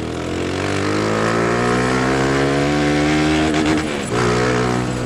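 A motorcycle engine revs loudly and steadily with diesel oil poured into its exhaust, the harmonic drone rising slightly before a brief dip and recovery near the end, close to the microphone with no talk.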